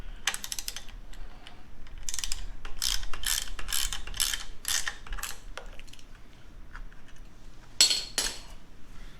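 Ratchet wrench with a 19mm socket backing bolts out of a motorcycle fairing, heard as bursts of rapid close-up clicking that come in short runs with brief pauses between them.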